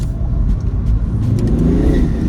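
A BMW car accelerating up a hill from a junction, its engine note steady and close with a rising pull toward the end, no talk over it.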